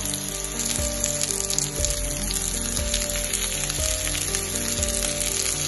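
Garlic and eggplant pieces fry in a pan, giving a continuous crackling sizzle layered over a steady humming tone that dips briefly about once a second, with no talking.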